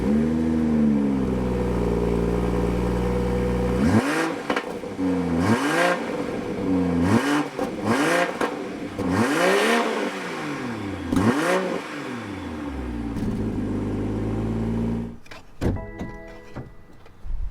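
A 2022 BMW M340i's 3.0-litre twin-turbocharged inline-six revving repeatedly from idle, each blip rising and falling in quick succession, close and loud, before settling back to a low idle.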